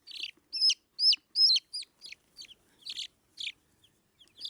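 Young chicks peep in a quick run of sharp, high chirps, about a dozen bright calls close by, spaced by short silences with no talk.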